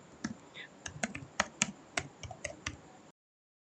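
A computer keyboard clicks under quick, irregular typing for about three seconds while entering text into an Excel spreadsheet, close and clear before falling silent.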